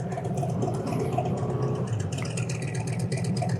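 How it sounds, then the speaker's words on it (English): A Harley-Davidson Tri Glide trike's exhaust makes a deep, steady rumble in slow traffic, a continuous low drone without pauses. "That's a nice rumble. I like that exhaust."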